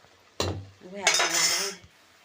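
A cooking pot of freshly cooked moong dal is lifted off the stove, a sharp metallic clank of the vessel followed by a longer scraping, rattling sound of metal on the burner, close and fairly loud.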